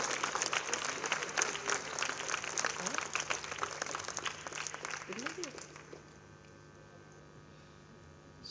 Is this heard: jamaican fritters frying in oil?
no